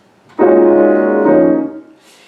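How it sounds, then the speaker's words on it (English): Orchestral horns playing a fanfare motif as a two-note slur in a macabre dance piece, a loud sustained first note sliding into a second, then fading out. "So the horn fanfares now turn into a 2-note slur that essentially sounds like this a bit."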